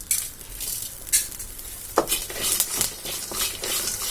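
Lentils and tamarind with salt are dry roasted in a pan for idli podi, a spoon scraping and tossing them in quick, uneven strokes with light rattling and crackle, close and without voices.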